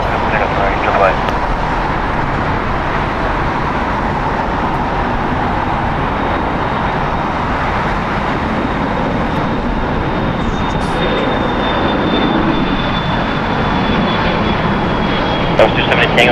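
An airplane rolls and takes off from runway 25 Right at LAX, a loud, sustained jet engine roar with a faint rising whine, while radio voices talk over it.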